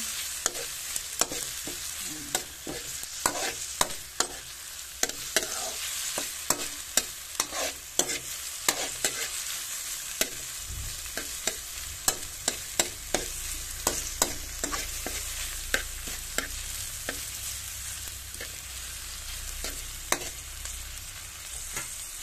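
Tomatoes for kilawing labanos are crushed and stirred in a pan. The utensil clacks and scrapes over a steady sizzle of frying, with sharp knocks repeating throughout and no voices.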